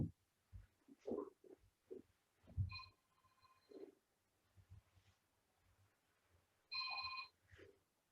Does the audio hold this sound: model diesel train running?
no